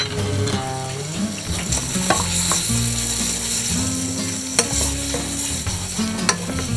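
Ingredients for a salmon curry with coconut milk are stirred and fried in a pan, with a steady loud sizzle and repeated scraping, clattering strokes of a utensil throughout.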